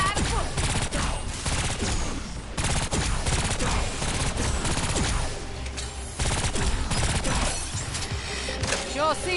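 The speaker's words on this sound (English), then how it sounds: "Time to keep shooting till I run out of bullets" Sustained, loud automatic gunfire in the shooter Agents of Mayhem, dense bursts of rapid shots rattling almost continuously with brief gaps, crashing impacts mixed in, and a voice now and then underneath.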